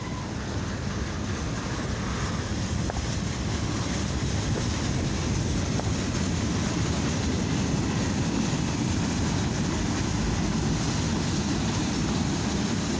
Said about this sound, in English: This is a CSX northbound mixed freight rail train.